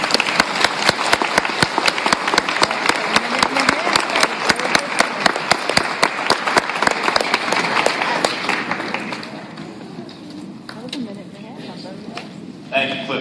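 Sustained audience applause follows the end of a speech on building an accessible society for people with disabilities, many hands clapping steadily for about nine seconds before fading into quieter room noise.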